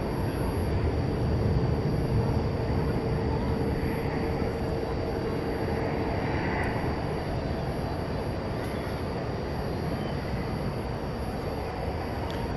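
An Airbus A350-900 approaching DFW Airport at night makes a broad, steady engine roar that stays loud and constant throughout, heard from the ground with no talk.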